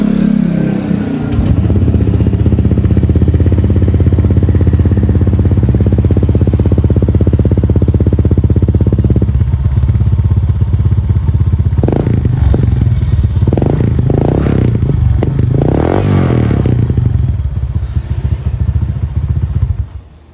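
A Honda Click scooter with a modified MT8 exhaust pipe idling loud and close, its steady throaty rumble broken by a few sharp blips of revving near the end.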